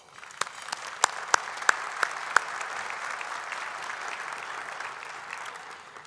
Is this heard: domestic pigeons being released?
no